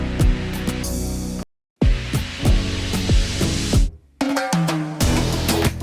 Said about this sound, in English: And we got a little build here, and a big white noise rise.